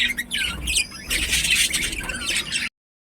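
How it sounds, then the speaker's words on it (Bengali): Pet budgerigars kept in a room at home chirp and twitter in quick, overlapping bursts of shrill, close calls. The sound cuts off abruptly into silence just before the end, with no talking. "প্রথমে আমি আমার ঘরের বদ্রি পাখিগুলো একে একে তোমাদের দেখাচ্ছি।"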